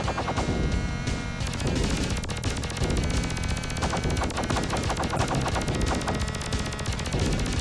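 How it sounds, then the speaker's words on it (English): Rapid electronic laser fire from a spaceship in the side-scrolling shooter Rendering Ranger R2, dense and continuous over a loud, busy game soundtrack with constant bursts of shots throughout. "the spaceship is shooting some kind of laser beam which bounces"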